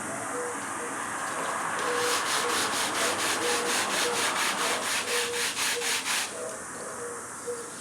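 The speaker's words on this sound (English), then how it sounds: "I'm using 120 grit just to take off the corner and round the bottom edge a little bit." Sandpaper of 120 grit rubs along the edge of a wooden aileron with a soft, close hiss, then a burst of quick, rhythmic back-and-forth strokes before easing off, with no talk.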